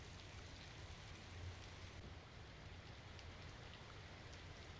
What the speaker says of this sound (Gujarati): મોડી રાતથી ગીરમાં ભારે વરસાદ વરસી રહ્યો છે